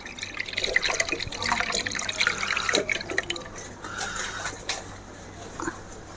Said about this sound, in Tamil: இப்போ இதில் தேவையான அளவுக்கு தண்ணி ஊற்றிக்கலாம்